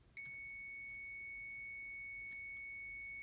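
A multimeter sounds its continuity beep as a coax hot pin touches DC ground, one sustained high electronic tone that starts abruptly after a brief click and holds steady, close and clear.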